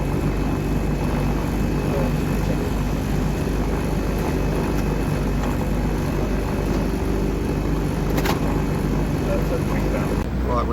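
A constant loud engine and propeller drone from an Islander aircraft taxiing onto a concrete runway, steady and close throughout, with voices talking over it.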